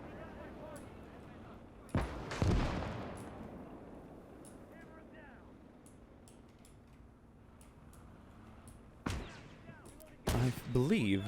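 Distant artillery and gunfire in the WWII strategy game Gates of Hell: Liberation during a Battle of the Bulge fight, a few heavy booms and bursts separated by quiet stretches, with someone talking between them.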